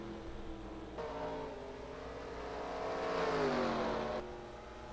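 Race cars roar around a racetrack mid-race, a steady engine drone swelling into a louder revving pass toward the end, continuous and fairly close.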